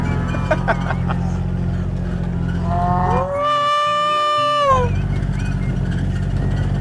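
A single long, low bellowing moo from a mother cow rises and holds for over a second, standing out against steady outdoor rumble and breezy background noise.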